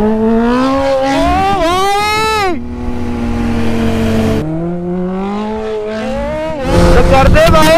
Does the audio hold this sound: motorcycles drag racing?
yes